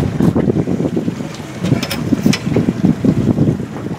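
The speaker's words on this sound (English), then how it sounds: "We were having a hard time in that wind" Strong wind buffets a small fishing boat out on the water, a loud steady gusting roar with rumbling microphone noise and faint water sounds, and no voices.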